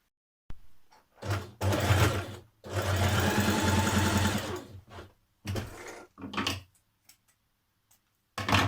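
A sewing machine stitches a trouser seam for a Simplicity 1165 pattern, running along the top and down a notched edge. It comes in close, loud bursts of rapid stitching, separated by short pauses and a few small clicks.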